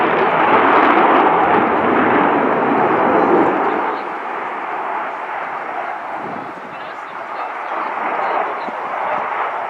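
An Italian Air Force Eurofighter Typhoon fighter jet flies a display at RIAT 2013, its engines producing a loud, continuous roaring rumble that swells and dips slightly as it passes overhead.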